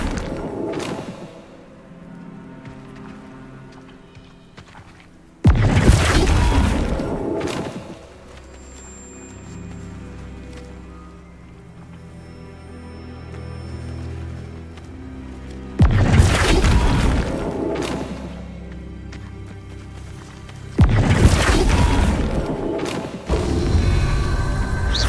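Flipendo spell being cast in Hogwarts Legacy on Xbox Series X, heard as several heavy booming impacts with thuds and shattering bursts. They come at intervals between quieter stretches of game ambience.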